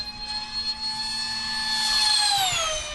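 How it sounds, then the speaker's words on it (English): An electric-powered model jet flying at a former executive airport, a steady high whine with a pitch that sweeps downward as it passes nearby, loud and with no other sound. "These electric-powered planes are basically cell phone technology, a battery, controller, and receiver"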